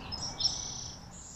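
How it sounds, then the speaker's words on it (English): Birds chirp faintly in a Los Angeles park at Debs Park, with high thin calls and a soft insect-like buzz over quiet outdoor background, and nobody talking. "birds are flying, bugs are bugging"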